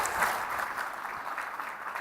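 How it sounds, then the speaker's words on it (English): Steady applause from an audience at a Future of Work forum panel, a dense wash of clapping at moderate loudness, sustained throughout. "big round of applause for our friends"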